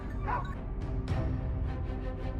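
Hunting dogs bark and yelp during a wild boar chase, with a few short, somewhat distant yips and barks over a steady outdoor rumble.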